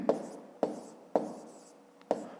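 Pen on paper during a handwritten math exercise: four separate soft taps or short strokes spaced about half a second apart, close and quiet.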